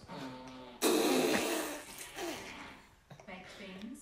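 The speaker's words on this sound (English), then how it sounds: "What kind of fart would you like?" Fart sound effect played by Google Assistant, a burst of loud, rough, sputtering blasts followed by shorter wet squelches and a final rasp, with voice-like tones mixed in.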